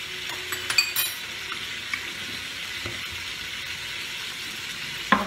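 Half a teaspoon of ghee sizzles softly in a pan as it is spread around, a low steady hiss with a few light scrapes and clicks, no voices.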